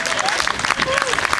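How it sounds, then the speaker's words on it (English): Applause for the Helen Sox Trio at an outdoor jazz event on Mesilla Plaza, a dense crowd clapping steadily with voices and brief whistles mixed in throughout. "a big round of applause for the Helen Sox Trio earlier today"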